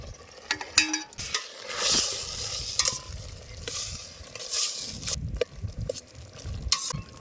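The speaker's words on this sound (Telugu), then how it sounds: "చికెన్ ఫ్రై కానీ మంచిగా." Chicken frying and being stirred in a pan in a village setting, a continuous close sizzle broken by repeated scraping and clattering strokes of the stirring utensil.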